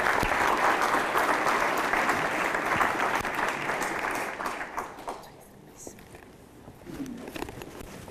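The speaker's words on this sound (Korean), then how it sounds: "여러분 서인태 지사님 큰 박수로 보내겠습니다." An audience at a forum event claps loudly for an official, the dense applause holding for several seconds, then thinning and fading out, with a faint voice surfacing near the end.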